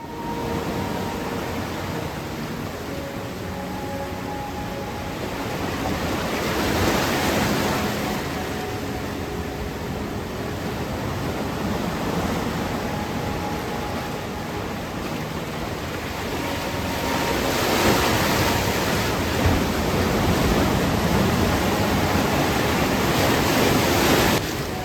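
Ocean waves crash against the London Bridge rock formation beside a beach rock pool. Loud, continuous surf rushes in broad surges with wind noise and swells in two bigger waves, and no voices.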